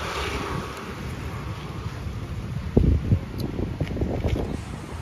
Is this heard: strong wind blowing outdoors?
yes